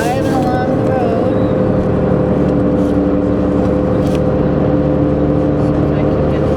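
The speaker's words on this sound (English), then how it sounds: "Driving along the road." A car drives along the road with a loud, steady engine drone and road rumble from inside the cabin, continuous and close throughout.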